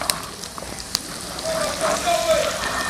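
Onions with garlic and a pinch of salt sizzle in a pan for a potato masala curry cooked outdoors, a soft crackling hiss that swells slightly midway while a voice speaks over it.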